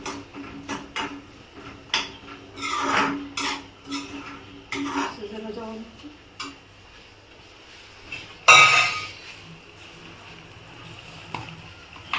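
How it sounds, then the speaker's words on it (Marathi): Beans and ghevda sauté in spice masala in a pan as a spoon clanks and scrapes in irregular bursts, with one louder metallic clatter and little sizzle, and no voices. "ह्या मसाल्यामध्ये मी बांग आणि जो आपला घेवडा आहे तर ते छान परतून घेते"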